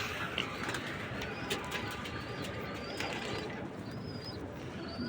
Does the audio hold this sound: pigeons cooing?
yes